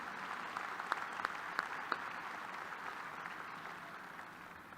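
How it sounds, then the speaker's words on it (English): A commencement crowd applauds, a soft, distant, sustained patter of many hands with a few sharper claps standing out early on. "Would you please give them a round of applause for their service?"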